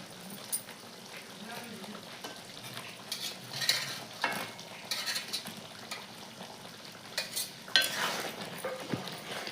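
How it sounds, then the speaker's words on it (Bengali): Fish, prawns in a Bengali prawn malai, stirred into boiling gravy: a soft bubbling simmer with intermittent scrapes and clinks of a spoon against the pot, fairly faint and close, with some background talking. "এখন আমি ওর ভিতরে মাছটা দিই মাছ দিয়ে কিছুক্ষণ ফোটানো লাগবে"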